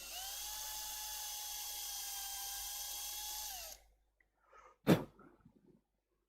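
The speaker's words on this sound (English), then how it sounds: "the way I like to get that into is to just drill a hole." An electric drill boring a hole in a woodturning project, a steady high whine running for nearly four seconds before spinning down, followed by a brief sharp burst and scattered small knocks.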